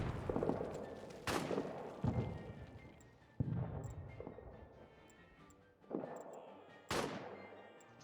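Gunfire in the trench-warfare game All Quiet in the Trenches, with several loud, spaced booming shots and echoing reports over a low rumbling background.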